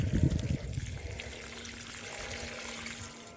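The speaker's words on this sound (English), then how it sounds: "And we can now continue watering." Water pours onto a vegetable garden on a hot day, heard as a steady close splashing gush that settles into a softer continuous trickle, with no talk.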